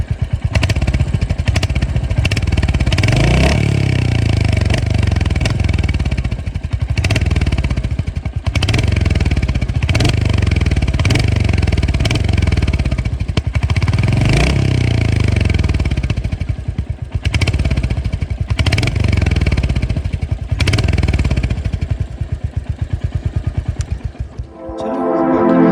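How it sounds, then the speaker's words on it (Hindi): Royal Enfield Hunter 350 motorcycle, 2025 model, idling and revving up close, its single-cylinder exhaust note thumping loud in repeated rising blips with a steady throbbing beat and no talk. "चलो एग्जॉस्ट नोट सुनाते हैं आप लोग को"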